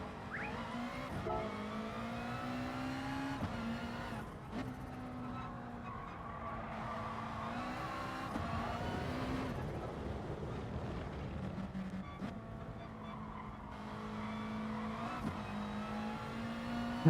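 GR.3 race cars on the Laguna Seca circuit in GT Sport, a steady layered drone of engines rising and falling in pitch as cars accelerate and shift, continuous and fairly close.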